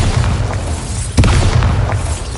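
Incendio and Bombarda spells explode in Hogwarts Legacy: a loud, continuous roar of rumbling blasts and crackling fire, topped midway by a sharp, close burst.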